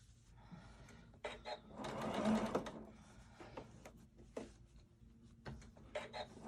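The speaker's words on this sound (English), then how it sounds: "And now I'm going to sew this seam." A sewing machine runs in short bursts while stitching a fabric face mask seam, with quiet pauses and soft handling noises between runs, close and fairly faint.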